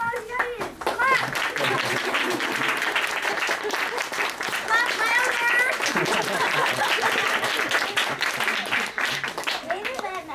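Audience clapping, dense and continuous for about ten seconds, with children's voices and chatter mixed in underneath.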